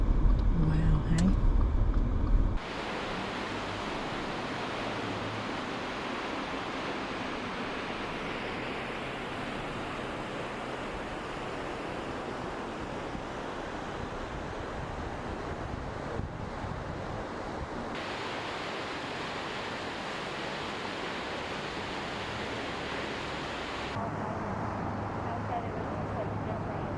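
Bear Creek Falls, a waterfall beside the Million Dollar Highway, pours with a broad, steady roaring rush that continues unbroken throughout, preceded by a brief burst of louder handling noise at the start.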